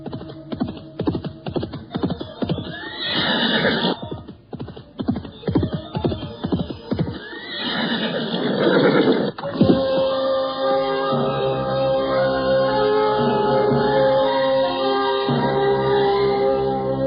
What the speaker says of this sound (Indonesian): Pada saat itulah, dua orang penunggang kuda datang menghampiri mereka.